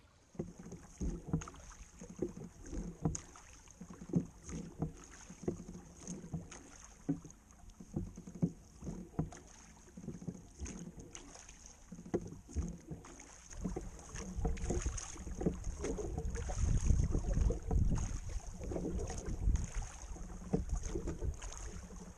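Oars working a small camp-cruising boat straight into the wind, rhythmic close strokes and splashes repeating every second or so over a constant wind rumble, building louder toward the end.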